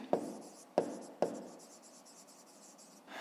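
Chalk or marker strikes a board in three sharp taps, each followed by a short scratch, during a fifth-grade maths exercise. A fainter scrape comes at the end, heard close in a quiet room.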